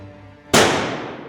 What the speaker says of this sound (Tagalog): nakarinig kami ng putok ng baril